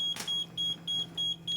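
A Kentec Sigma XT extinguishing panel gives its countdown warning as a steady series of high, clear electronic beeps, about four evenly spaced tones with a short click near the start, indoors and alone.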